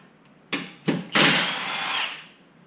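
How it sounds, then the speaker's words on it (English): Close power-tool bursts from a brushless Fuel cordless impact wrench taking bolts off a 2019 Corvette Z06 exhaust: two short zips, then a louder sustained run of about a second, with no talk. "It's still fuel brushless. It's a nice little impact."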